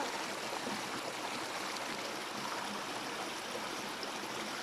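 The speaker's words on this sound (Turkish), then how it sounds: "Şimdi Sinop'un yağmur ormanlarındayız şelaleyi görüyorsunuz." Steady, dense roar of a rainforest waterfall in Sinop, Turkey, a broadband wash of falling water that stays even and continuous throughout with no voices.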